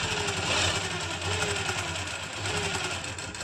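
A sewing machine stitching the back crotch seam of a palazzo with small stitches, a steady rapid mechanical whir running continuously at close range, with no voices.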